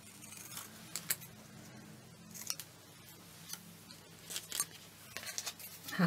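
Scissors snipping paper pine cone embellishments at a crafting desk, a series of soft, close, irregular cuts and rustles with quiet pauses between them.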